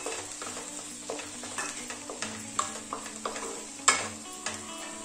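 Boiled beans and green peas being added and stirred into a simmering vegetable kurma pot, soft sizzling under a regular series of stirring scrapes and light knocks, close and moderate.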